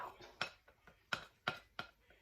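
A spatula scrapes melted chocolate from a bowl while brownie batter is made, giving four or five short, faint scraping strokes at irregular intervals with quiet pauses between them.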